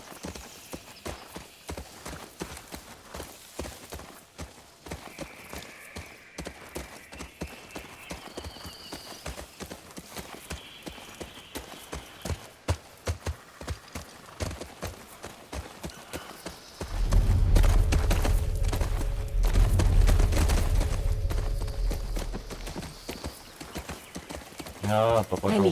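Horse hooves clip-clopping in The Last of Us Part II as riders move through a tense Seattle forest; steady rhythmic hoofbeats run throughout under occasional speech, with a louder, denser rumble swelling near the end.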